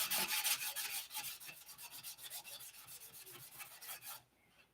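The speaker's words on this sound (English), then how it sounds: "All this primer needs to be sanded back off." Primer being sanded back off a surface by hand, a steady run of rhythmic rasping strokes that is loud and close with no talk, stopping abruptly near the end.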